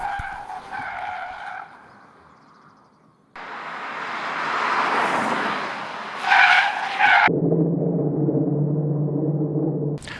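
2024 Volkswagen Passat Variant R-Line on a test circuit during moose-test swerve and slalom maneuvers, with long loud tire squeals and skidding hiss in separate bursts alongside engine drone, no talk.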